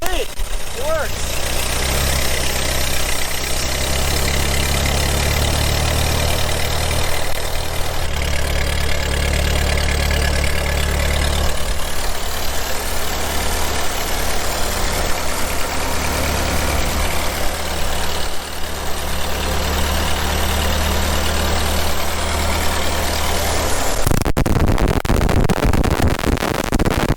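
A 1944 Ford tractor engine idling nearby with the choke closed, a loud steady low rumble that shifts in pitch several times before cutting off abruptly near the end, with occasional talk over it.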